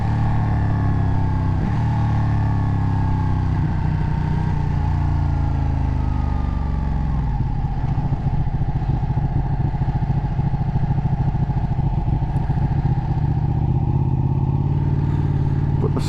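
Loud, continuous engine roar from a Ducati 1299 Panigale motorcycle being ridden, its pitch rising and falling as it revs and shifts, heard up close with no voices.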